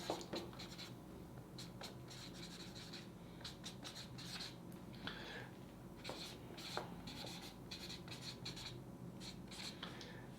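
Pen strokes scratch across paper while notes are written by hand, a soft, close, continuous scribble with short bursts of quick strokes and no talking.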